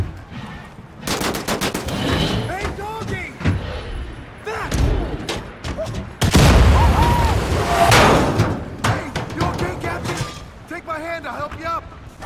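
Rapid gunfire from the video game Wolfenstein: The New Order, with bursts of automatic shots, heavy thuds and mechanical clanks packed densely throughout, loud and continuous, with someone talking over parts of it.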